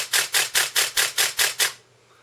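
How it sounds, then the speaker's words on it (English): Canon 1D Mark III DSLR shutter firing eight times in a rapid, even burst of sharp mechanical clicks, close and clear, then silence. "That's the shutter going."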